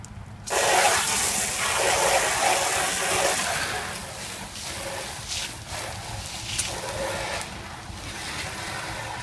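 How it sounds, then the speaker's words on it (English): Water rinses over restored VW Beetle headlights, a steady close splashing rush that starts abruptly and runs continuously, slightly easing toward the end. "And I'll rinse them off."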